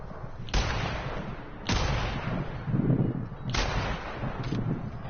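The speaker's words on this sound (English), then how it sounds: "First time ever using a rifle." Rifle shots fired in The Outer Worlds video game, three loud sharp cracks spaced a second or two apart, each followed by a short decaying tail, with a lower rumble between them.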